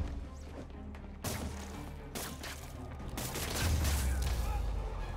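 Gunfire in a Spider-Man video game, a few sharp cracks and bursts spread across a busy, noisy combat scene with a heavy low rumble building toward the end.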